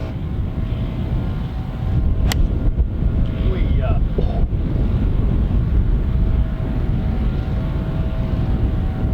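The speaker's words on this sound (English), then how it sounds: "Kind of no choice but to fight the wind here." Strong wind on a golf course buffets the microphone in a constant low roar across the whole clip, with a couple of faint brief knocks partway through.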